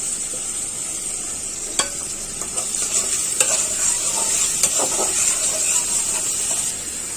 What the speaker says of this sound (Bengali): যে তেলে আমি ডিম ভাজি করছিলাম ওইটাই দিয়ে দিচ্ছি, আর পেঁয়াজ দিয়ে দিই।